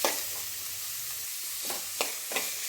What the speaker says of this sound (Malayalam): സവാള ഇട്ടിട്ട് നല്ലോണം നല്ല വാടണം കേട്ടോ, നല്ല വഴണ്ടി വരട്ടെ.